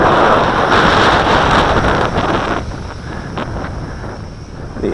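Strong wind, with a JJRC H12C drone flying, roars across the microphone in a heavy, rumbling rush that eases somewhat halfway through, then keeps blowing at a lower level.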